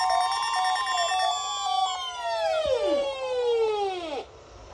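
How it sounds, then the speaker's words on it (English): A NOAA Weather Radio emergency alert tone plays through a home receiver during the required weekly test. It is a loud, steady warbling alarm that wavers and then sweeps downward before cutting off, with no voices. "We've just activated the public warning alarm tone."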